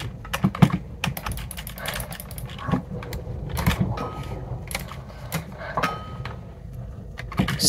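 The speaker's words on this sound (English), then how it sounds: "I've got a loud keyboard." A loud computer keyboard clacks in a steady run of quick, uneven keystrokes, close and sharp, continuing without pause and with no talking over it.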